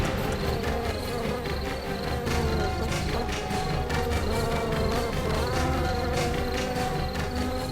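A dense swarm of bees drones steadily and loudly throughout, a continuous buzzing hum with no speech.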